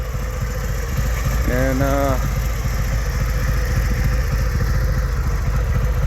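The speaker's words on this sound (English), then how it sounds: "That's my bike" A motorcycle engine idles steadily close by with a low continuous rumble, while someone speaks briefly over it.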